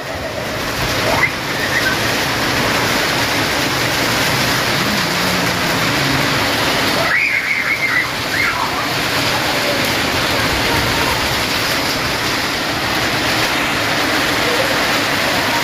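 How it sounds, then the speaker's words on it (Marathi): Sudden evening rain in a Marathi home setting pours down as a steady, dense wash of noise that stays loud and even throughout, with no talk over it. "अचानक पाऊस चालू झालेला आहे."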